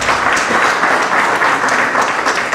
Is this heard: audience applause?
yes